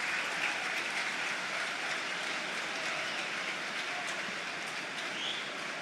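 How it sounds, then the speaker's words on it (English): Steady rain hisses across an open football stadium during a Leeds United versus Oxford United match, a dense continuous wash of noise with a faint crowd murmur beneath, no talk. "the rain comes down here now as well, so it's swirling around visibly now inside the stadium"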